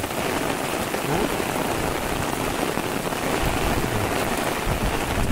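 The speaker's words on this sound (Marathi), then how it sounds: "हा बघा पावसाची काय धमाल ती." Steady, loud rain pours down on paddy fields during ploughing at the start of rice planting in rural Konkan, a dense, continuous hiss with no break and no voices.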